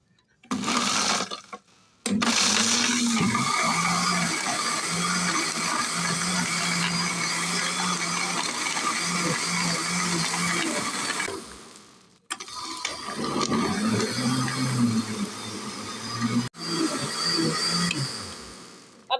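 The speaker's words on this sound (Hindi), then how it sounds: "अब हम कवर लगाकर इसको ग्राइंड करेंगे।" An electric blender grinds a sattu summer drink with coriander, mint, cumin and fennel. Its steady whirring motor runs loudly for several seconds, stops briefly, then starts again.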